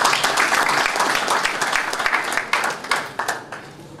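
A hall audience at a political gathering in Ottawa applauds with loud, dense clapping that holds steady, then thins toward the end as a few claps trail off.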